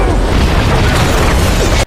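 An aircraft bombing strike in the action film The A-Team unleashes a massive explosion, a loud, dense, roaring blast that fills the whole moment without pause and then cuts off abruptly.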